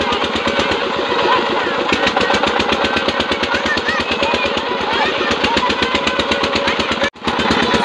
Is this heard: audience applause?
no